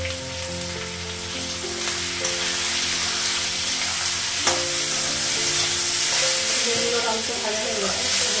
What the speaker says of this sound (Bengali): বেগুন আর আলুটা ভাজা হয়ে গেছে